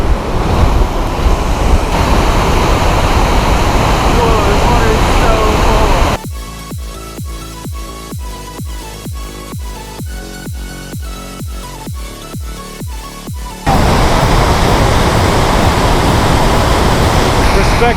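A river waterfall roars as a dense, steady wash of broadband noise close to the microphone, giving way in the middle to a stretch of music before the roar returns.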